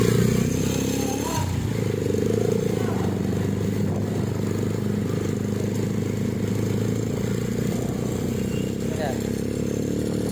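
A motorcycle engine runs steadily and loudly throughout at an outing in Patungan, Ternate, Cavite, with a low rumbling idle that shifts slightly early on, while people talk faintly nearby.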